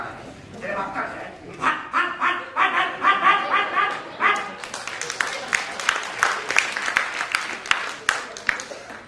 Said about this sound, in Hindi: मेजबान से पहले कुत्ता आपका भौंक भौंक कर स्वागत करता है